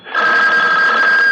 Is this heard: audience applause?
no